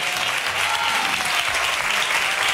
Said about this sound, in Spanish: Vosotros estáis ahí aplaudiendo tan normales